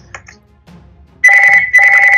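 A telephone rings loudly in two bursts of rapid trilling bell tones separated by a short gap, after a second of faint background sounds.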